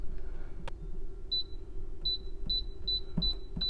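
An air fryer's control panel gives a soft click, then about six short, high electronic beeps as its buttons are pressed, spaced irregularly over a low, steady hum.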